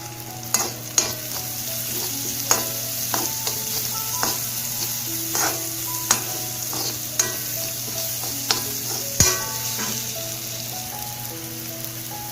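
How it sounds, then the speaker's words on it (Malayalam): Ginger, garlic and green chillies sautéed with fried onions in a pan, a constant crackling sizzle broken by irregular spatula scrapes and knocks against the pan, close and clear, no one speaking. "സവാള വഴന്നു വന്നതിലേക്ക് നമുക്കിനി ഇഞ്ചിയും വെളുത്തുള്ളിയും അതുപോലെ പച്ചമുളകും കൂടി ചേർത്ത് നന്നായിട്ടൊന്ന് വഴറ്റിയെടുക്കാം"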